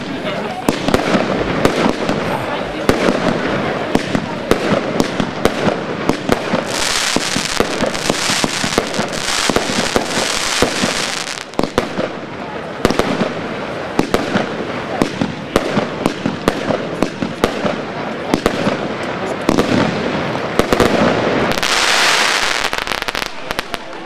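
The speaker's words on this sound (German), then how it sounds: "25 Schuss XXL Batterie von Triple X." A 25-shot XXL Triple X fireworks cake battery fires shot after shot in a rapid, loud barrage of sharp bangs and crackles, with brief bursts of heavier crackling.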